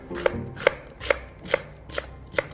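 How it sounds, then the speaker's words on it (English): A knife cuts radicchio for salad on a cutting board, six crisp, evenly spaced chops in a steady rhythm, close and clear with no talking. "take the end off, cut it in half, and then I just cut it like,"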